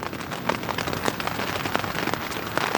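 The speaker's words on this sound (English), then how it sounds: "Here comes rain." Rain begins falling during a storm at a canoe-trip campsite, a dense steady patter of drops hitting surfaces, close and loud, with no voices.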